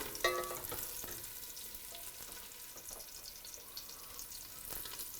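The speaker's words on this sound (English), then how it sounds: "The pancetta you gotta saute a little bit, not too much" Pancetta sautéing in hot oil for a Tuscan zuppa toscana, a soft, steady sizzle with a few sharp utensil clicks near the start, quiet and close, no talk.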